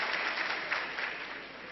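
Audience applause at an RCM business seminar, a dense steady wash of many hands clapping for nearly two seconds, fairly faint and even throughout.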